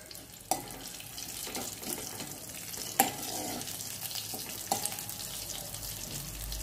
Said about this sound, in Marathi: एक मोठा चमचा मी इथे तूप तापवून घेतलंय, त्यामध्ये आता जिरा आणि कढीपत्ता टाकते.